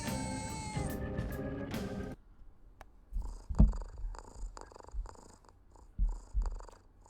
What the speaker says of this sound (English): It purrs when I touch the touchpad.